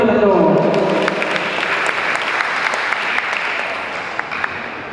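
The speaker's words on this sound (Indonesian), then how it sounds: "Tepuk tangan dulu kita tuh." Audience at a Christmas worship celebration clapping, a steady round of applause that begins under a speaking voice and gradually tapers off over about five seconds.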